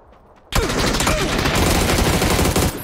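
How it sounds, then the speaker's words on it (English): After a brief quiet moment, a loud, close burst of rapid automatic gunfire erupts and continues as a sustained, dense rattle for over two seconds before cutting off. "What is that gun?"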